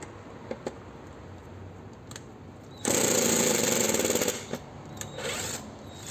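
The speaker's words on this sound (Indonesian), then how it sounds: "impact driver masang skrup ke kayu itu sudah fungsinya" An impact driver drives a screw into wood, a loud, near, rapid hammering burst lasting about a second and a half, followed by a few quieter short bursts and clicks.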